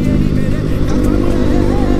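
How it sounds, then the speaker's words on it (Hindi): A motorcycle engine runs loud and close during a ride, a steady low rumble holding throughout without a clear rev change. "बाइक कुछ ज़्यादा लाउड हो रही है, मेरे को लग रहा है कुछ ज़्यादा आवाज़ आ रहा"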